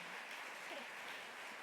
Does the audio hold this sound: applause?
yes